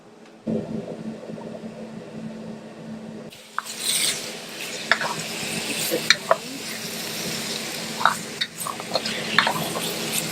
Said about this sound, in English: Now we are going to put everything together in the wok. We'll add some more sesame oil.